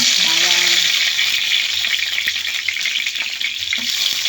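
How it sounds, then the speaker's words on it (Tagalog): Garlic sautéing in a hot oiled pan for chicken adobo, giving a steady bright sizzle that fills the clip, with a few stirring scrapes and light clinks over it. "Magigisa na tayo guys"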